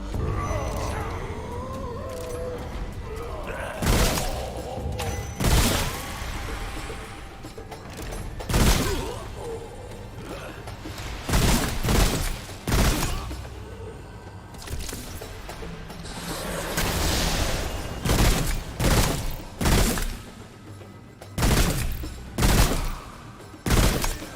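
Gunfire in the video game Remnant: From the Ashes: repeated loud bursts and single shots spread across the stretch, with mechanical weapon clatter and game ambience between volleys.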